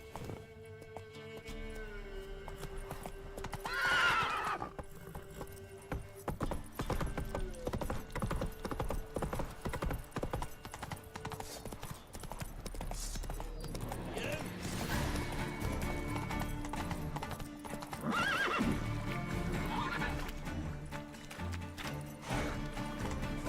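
Roach the horse in The Witcher 3 video game gallops with rapid, near hoofbeats over game sounds, breaking into two loud whinnying neighs, one early and one later.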